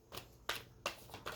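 Tarot cards are shuffled in quick, crisp riffles, four or five papery snaps in a row, faint and close with no talking.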